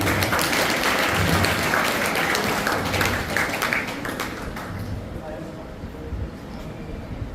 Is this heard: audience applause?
yes